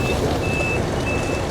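A bus backing up near the Quba Mosque in Medina sounds steady reversing beeps, about three evenly spaced high tones over loud idling engine rumble and crowd noise outdoors.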